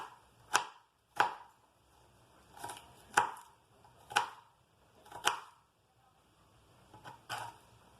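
A knife chops through food for home-cooked Mexican-style beef steak with rice and salsa, landing about six distinct, sharp chops spaced roughly a second apart, close and fairly loud with quiet gaps between.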